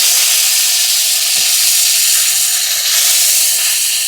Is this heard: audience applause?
no